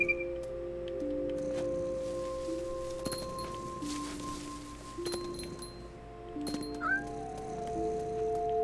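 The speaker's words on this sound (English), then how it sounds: "That's the sound of a very upset cat." Upset cat in What Remains of Edith Finch video game, drawn-out wavering meows and caterwauls over steady tonal music with faint clinks.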